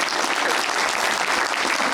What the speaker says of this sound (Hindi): तालियां इसके लिए, तालियां